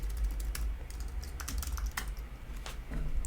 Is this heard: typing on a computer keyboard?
yes